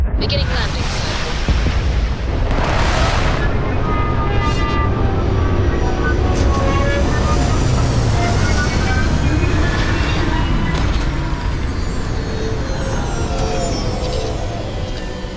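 A spaceship sets down in the video game Starfield, a loud, continuous roaring rumble of thrusters with rising whooshes and metallic sweeps that build and then taper toward the end.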